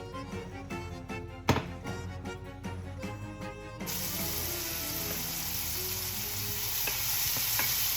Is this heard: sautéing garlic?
yes